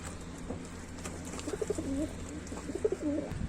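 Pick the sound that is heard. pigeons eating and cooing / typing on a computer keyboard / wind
pigeons eating and cooing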